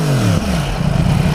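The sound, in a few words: Yamaha R1 sport motorcycle engine revving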